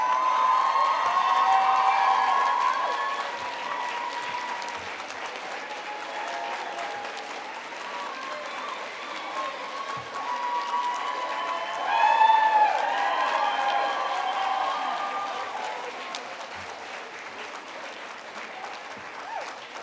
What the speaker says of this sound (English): give him a big round of applause and standing ovation for Eamon Doyle